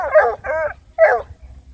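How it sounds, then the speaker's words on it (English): A Redbone coonhound puppy lets out high, wavering howls close by: two drawn-out cries in quick succession, a short pause, then a third howl, with no talking over them. "that's the red bone that's howling"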